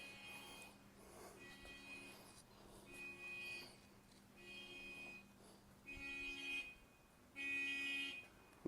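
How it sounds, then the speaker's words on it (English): An alarm beeps in repeated pulses of electronic tone, faint and somewhat distant, recurring at irregular intervals over a quiet background hum during car detailing. "someone's alarm went off."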